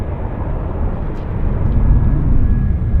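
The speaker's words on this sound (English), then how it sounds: "This is a Westjet Q400 inbound from Victoria." A WestJet Q400 turboprop airliner arrives at Vancouver Airport, inbound from Victoria, producing a steady, loud broadband rumble that swells gradually as it nears.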